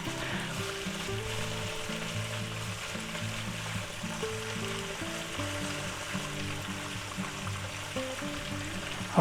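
Thin pork slices for a hot pork sub with peppers and onions sizzle steadily in a pan, a soft, even hiss that continues for the whole stretch under melodic background music.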